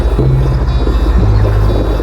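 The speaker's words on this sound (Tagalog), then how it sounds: "Ayan, malakas yung hangin guys." Strong wind buffeting the microphone in a loud, steady low rumble, with a faint droning hum underneath and no voices.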